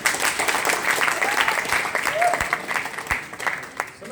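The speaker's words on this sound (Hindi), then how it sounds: "गलत चीज पे कितनी ताली बजाते हो?" Seminar audience clapping fills the room in an uneven burst that swells and then fades out, with a voice faintly underneath.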